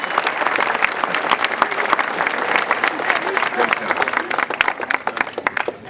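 At a summer 2007 graduation ceremony, an audience breaks into sustained, dense applause after the graduates' names are read, with crowd clapping filling the room throughout.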